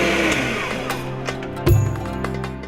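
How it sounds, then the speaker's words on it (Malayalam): A kitchen mixer whirs as it blends milk, eggs and sugar, a steady motor hum with a louder surge near the end. "പാൽ, മുട്ട, പഞ്ചസാര എന്നിവ മിക്സിയിൽ അടിച്ചെടുക്കുന്നു"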